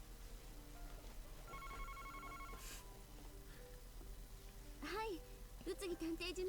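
A telephone rings in the detective adventure Famicom Detective Club, giving faint, repeated electronic ring tones over a low background hum, with quiet voice-like tones near the end.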